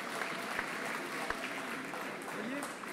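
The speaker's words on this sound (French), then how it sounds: "je vais vous demander s'il vous plaît de les accueillir sous vos applaudissements" Audience applause welcoming the finalists at a French club final, a steady wash of clapping from a crowd with voices talking over it and a couple of sharp thumps.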